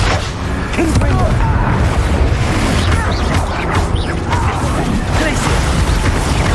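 In the Hogwarts Legacy video game, a Confringo blasting spell sets off loud booming crashes amid dense, continuous combat noise and clatter.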